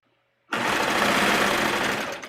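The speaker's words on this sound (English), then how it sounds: "All right, so let's sew this." A sewing machine stitches a swimsuit gusset, starting abruptly after a brief silence and then running steadily at high speed, loud and close, with no talking.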